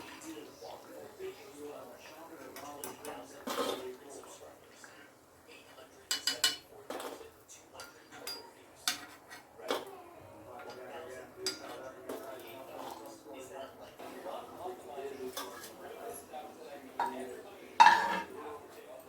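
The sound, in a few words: placing fried banana bajjis onto a plate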